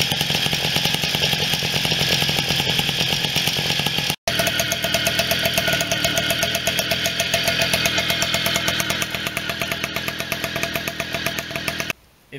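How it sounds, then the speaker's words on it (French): A moped engine with a homemade exhaust pipe runs steadily, loud and close, with a rapid buzzing, chainsaw-like drone that cuts out briefly near four seconds and again at the very end. "Voici le comparatif entre le bruit de l'ancien pot d'échappement et du Kémon."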